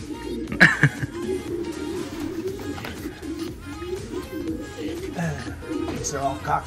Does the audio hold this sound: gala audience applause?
no